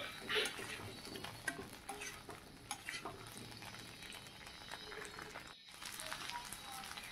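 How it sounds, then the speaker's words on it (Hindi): Cauliflower florets frying in mustard oil in a wok give a steady, moderate sizzle with light crackle and occasional stirring, holding constant throughout apart from a brief dropout near the end. "अब हम इसमें फूल को अच्छी तरह से लाल होने तक फ्राई कर लेंगे"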